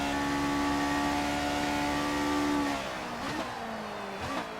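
A race car engine in F1 2019 drones at a steady high pitch, then drops and climbs again as it shifts through gears, fairly quiet with no voices.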